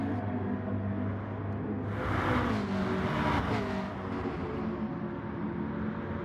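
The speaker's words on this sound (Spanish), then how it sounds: "Escuchamos los motores" Race car engines from Gran Turismo Sport at the Brands Hatch circuit whine and drone steadily, rising as a car accelerates past and then settling back, at moderate volume with no talk over it.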